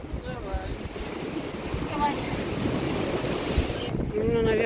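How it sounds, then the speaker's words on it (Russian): Rough Baltic Sea surf churns and crashes steadily at a pier in Zelenogradsk, with heavy wind buffeting the microphone and faint voices in the background. "Море прям сегодня сильно волнуется."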